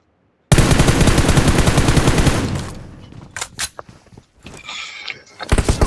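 Rapid tap-fired gunshots in a 3v3 online shooter match, a dense burst of sharp cracks for about two seconds, then scattered single shots and clicks with faint background game noise.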